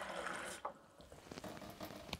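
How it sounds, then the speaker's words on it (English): Water is poured over seeds in a glass, a soft close trickle and splash with faint dripping after, quiet and alone. "I'm just going to cover it with water."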